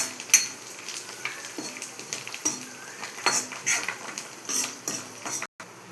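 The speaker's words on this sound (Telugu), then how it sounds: "వేసి బాగా కలుపుకోవాలి." Chicken curry mixture being stirred into hot tempering with coriander and mint in a pan, a spoon scraping and clinking against the metal in irregular strokes over a faint sizzle, with a brief dropout near the end.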